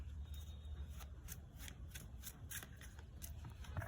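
Tarot cards being shuffled by hand, soft repeated riffling and flicking bursts in an irregular rhythm, close but quiet, with no speech.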